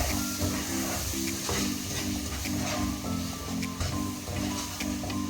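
Mango pieces and sugar stirred together in a pan, with a steady frying sizzle under repeated rhythmic scraping strokes and occasional soft clinks, close and continuous without any talk.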